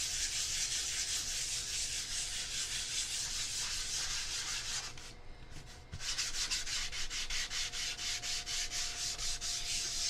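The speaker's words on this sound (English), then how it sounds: "So why do we do the sanding, kids?" Sandpaper rasps against a surface being prepared for paint, rapid rhythmic scratching strokes close by, pausing for a moment before resuming at a steady pace.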